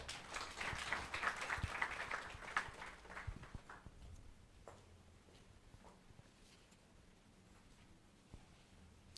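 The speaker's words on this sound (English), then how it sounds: "Another round of applause for our chairman" Conference audience applauding in a hall at a herbal medicine scientific conference: a burst of clapping from a seated crowd that is heard at a distance, fades after a few seconds and leaves faint room noise with occasional scattered claps.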